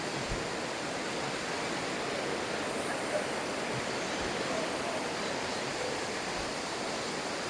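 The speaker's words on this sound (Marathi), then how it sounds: "कसा धबधबा आहे" A forest waterfall roars steadily and loudly, a dense, unbroken rush of falling water that fills the whole stretch without pause.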